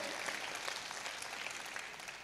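Steady, dense applause from an audience at a Hindi poetry gathering (kavi sammelan) in Sheorinarayan, continuous throughout with no talking.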